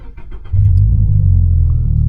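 A 2024 Subaru BRZ with an aftermarket exhaust rumbles close and loud as the engine kicks into a deep rev about half a second in and holds a low steady drone, with no talk.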